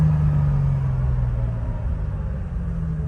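A Jeep Wrangler Sahara engine hums and rumbles steadily up close, a low continuous drone that dips slightly as manual gears change.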